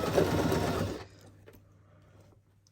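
A Baby Lock Zest sewing machine stitching a fabric bucket hat brim gives a loud, fast, steady whir for about a second, then stops, leaving faint handling clicks.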